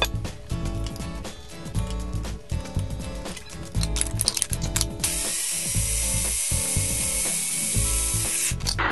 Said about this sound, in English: So from a single pulse of the food processor, we get this lovely puree.